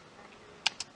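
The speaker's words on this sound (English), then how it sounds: "recorded a flip-flop falling against the bark of the tree." A flip-flop knocks against tree bark outdoors, caught close on a boom mic: two short, sharp taps about a beat apart over a faint background hiss.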